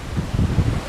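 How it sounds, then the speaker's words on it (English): Gusty wind roars into the microphone after Hurricane Irma, a brief low buffeting rush that swells and falls in quick surges, loud and close, with no voices. "we'll get some big gusts here and there."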